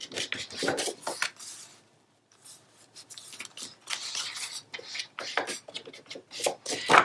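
Ink is rubbed onto a scrapbook paper print in short, dry scuffing strokes, close and fairly quiet, with a brief pause partway through.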